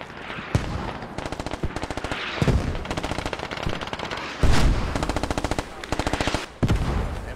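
M4 rifle fire in a war video game comes in several rapid automatic bursts of sharp, loud shots separated by short pauses, with no talking.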